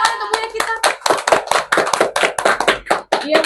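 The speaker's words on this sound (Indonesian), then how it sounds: "beri tepuk tangan untuk Buya kita" A small audience claps for a guest lecturer, a hypnotherapy and public-speaking expert, at a podcast recording in Yogyakarta; a few close, loose hand claps with uneven rhythm and gaps over a few seconds.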